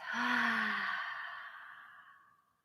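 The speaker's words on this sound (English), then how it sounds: "take a clearing breath in and out" A single long clearing breath during a restorative yoga session, with a soft inhale flowing into a drawn-out, audible sighing exhale that fades away, close and alone.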